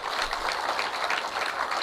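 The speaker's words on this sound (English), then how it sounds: "please give a big applause" A campaign rally crowd in Kisumu applauding, a dense, even wash of many hands clapping together, loud and sustained across the moment.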